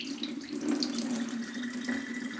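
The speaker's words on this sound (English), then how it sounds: "You don't have to drain all of the water, but get the majority of it" Water pouring and splashing steadily into a sink as rinse water is drained from rice, a continuous trickling flow with light gurgles, close by.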